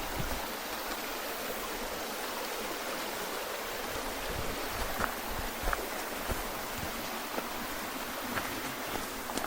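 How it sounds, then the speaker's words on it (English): A stream runs through a wood on Skiathos, a steady, full rush of flowing water with no talk over it. "look, we have running water"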